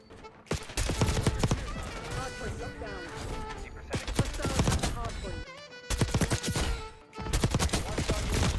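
Rapid bursts of AK74 assault-rifle fire in the shooter game Black Ops 6, loud and close, coming in three dense volleys separated by short pauses, with sharp impact cracks and game effects mixed in.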